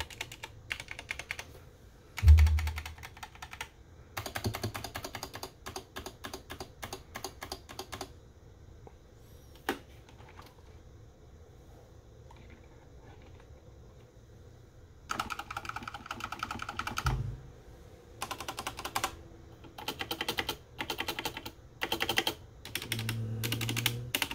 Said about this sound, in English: Different sounds on different sides of this keyboard.